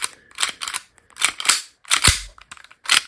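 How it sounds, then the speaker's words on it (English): The slide of an Army Armament M1911A1 airsoft pistol is racked repeatedly, giving sharp, close metallic clicks and clacks in quick pairs with short pauses between. "It's very sort of clicky and clacky and jangly and really smooth."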